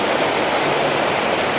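Water flowing and rushing over limestone beside an old railway bridge on a countryside walk, a steady broadband wash with no breaks, fairly loud and alone.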